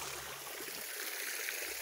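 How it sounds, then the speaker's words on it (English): Cold fresh forest stream in the Black Forest, Germany, flowing steadily with a soft continuous hiss and gentle trickle, close by and moderately quiet, with no voices. "this very cold fresh water from the forest"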